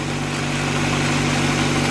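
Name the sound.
Acura Integra engine idling while warming up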